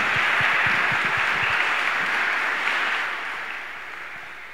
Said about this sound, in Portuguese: A Jesus e Maria, uma salva de palmas.